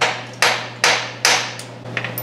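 A hammer strikes the rockshaft housing of a Case 830 Comfort King tractor, four loud, close metallic blows at a steady pace with ringing decay between them, over a low engine hum.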